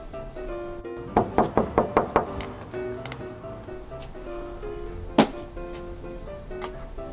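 Knuckles rap on a house door in a quick run of five knocks, then a single sharper knock follows a few seconds later over a steady low background hum.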